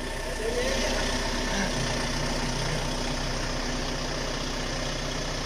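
A Yanmar tractor engine idling nearby, a loud, steady diesel chug with a constant low rumble that carries on without letup.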